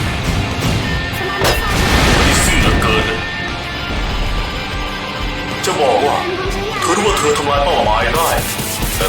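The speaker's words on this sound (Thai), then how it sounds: "หลบเลยเขาจะยิงแล้ว" Gunfire and explosive booms in the video game Project Nimbus, heavy and continuous, blended with music and mixed under a voice speaking throughout.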